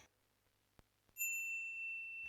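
Quiet room tone, a faint tap, then a single bright electronic phone message notification chime rings out and sustains briefly.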